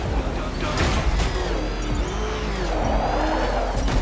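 A car engine revs and hums with rising and falling pitch, tires squealing briefly, in the video game Batman Arkham, with voices talking over it.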